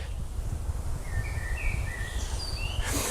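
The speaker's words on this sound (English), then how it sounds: "the birds just get quiet, but now they just feel free to sing" Birds sing in a forest, with a few thin chirping calls drifting over a steady low rumbling background, fairly distant and soft.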